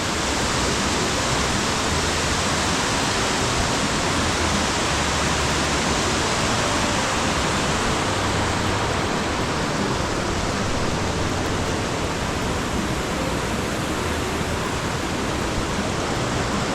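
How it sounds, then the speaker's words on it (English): Waterfall along a Himalayan mountain trail, a constant loud roaring rush of falling water with no pauses, close and enveloping. "We see a lot more waterfalls today."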